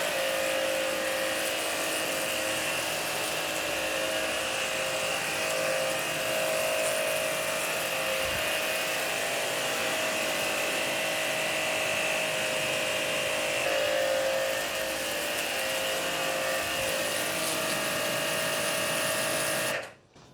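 A Hanabi 8003 high-pressure washer, 60 bar, running continuously with a loud, steady electric motor whine and pump drone that holds for about twenty seconds before cutting off abruptly.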